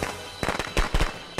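A short burst of firecrackers in the Friday the 13th video game gives several sharp, close pops in an uneven cluster, with no voices over them.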